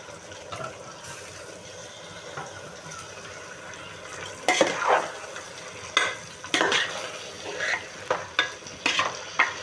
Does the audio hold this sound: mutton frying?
yes